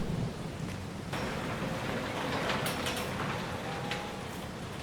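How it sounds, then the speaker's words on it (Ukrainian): Steady rain falls in Farming Simulator 22 with thunder rolling in the distance, a constant hiss with brief brighter crackles and no talking. "дощ іде"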